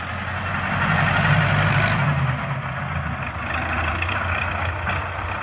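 A YuMZ tractor engine works under load while pulling a PLN-3-35 plough uphill, a steady loud low diesel drone with constant rumble throughout and no talk.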